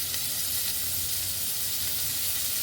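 Tomatoes go into hot oil with a mustard seed tempering, giving a steady close sizzle and bubbling hiss with faint stirring, no talking.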